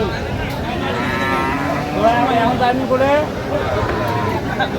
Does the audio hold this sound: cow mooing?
yes